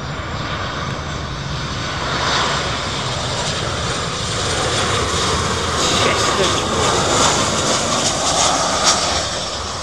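Loud, steady Boeing 747 freighter engine roar with a broad whooshing rumble that swells slightly as it passes, close and continuous, without talk.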